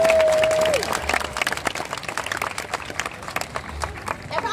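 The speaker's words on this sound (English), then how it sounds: "Let's give them a round of applause." Crowd applause at a killer whale show in a marine park arena, a broad, lively clapping wash that follows a brief whistle tone at the start, with a little crowd noise mixed in.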